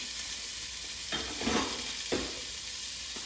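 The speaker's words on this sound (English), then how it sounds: "I'm going to add my vegetables, and they're going to cook in there." White onion, green onion, red and green pepper and celery cooking in a pot for gumbo give a steady close sizzle, with a couple of brief scraping stirs over it and no talk.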